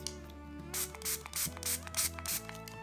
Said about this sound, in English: I'm gonna spray that there.